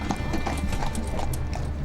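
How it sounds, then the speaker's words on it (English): Horse-drawn cart hooves clip-clop steadily and close on a street in a Roma ghetto, a continuous rhythmic clatter with no talking. "Horse carts instead of cars."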